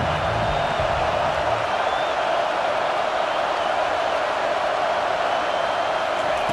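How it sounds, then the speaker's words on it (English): A football stadium crowd at Baylor vs Texas A&M roars steadily on third down, a loud, sustained wash of massed voices with no breaks, the din holding level and filling the whole space. "Decibels rising as the crowd gets behind this defense on 3rd down"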